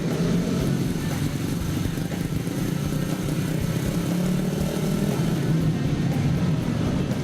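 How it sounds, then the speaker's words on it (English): A steady, loud, low rumble of several motorcycle engines running and idling together as they warm up before race practice, continuous throughout with no voices. "most of the bikes are now being revved up, warmed, in preparation for practice"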